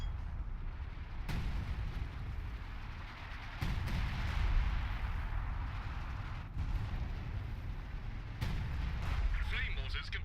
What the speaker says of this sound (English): They turn their artillery on this position.